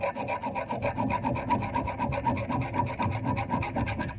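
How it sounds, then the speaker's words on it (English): A round chainsaw file scrapes rhythmically back and forth across a chainsaw tooth, about eight quick close rasping strokes at a steady pace, fairly quiet and with no talking. "I take my round chainsaw file and I keep it at the same angle that the tooth is"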